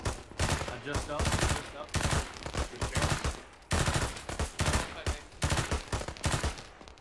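Heavy .50 caliber machine gun fire in ArmA 3 on a Western Sahara battlefield, long rapid bursts hammering steadily with brief gaps, loud and close, with radio chatter from players over the shooting.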